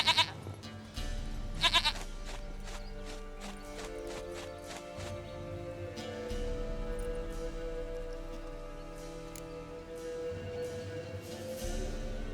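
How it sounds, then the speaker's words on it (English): A goat in The Witcher 3: Wild Hunt lets out a couple of short bleats near the start, followed by steady horse hoofbeats clopping along under soft ambient tones. "Goat of mine, dearest, sweetest goat."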